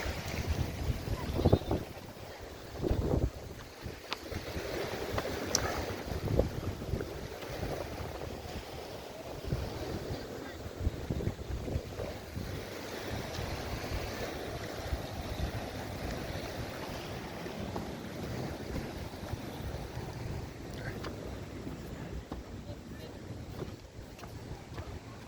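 Big waves roll and break at the sea in a sanctuary at Maragondon, Cavite, with strong wind buffeting the microphone, a continuous loud wash of surf and gusts with a few heavier surges early on.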